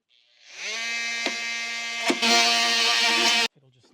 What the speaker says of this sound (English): So I could just cut these screws off with a little tool.